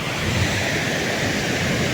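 Floodwater rushes over the overflowing Droneshwar dam after heavy rain, a loud, continuous, dense roar with no pauses throughout.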